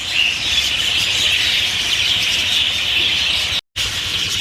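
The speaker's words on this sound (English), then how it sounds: "that's all the budgies flying around all over the place" Dense, continuous high chirping of many budgies in an aviary, a steady bright chatter throughout with a brief cut near the end, no talking.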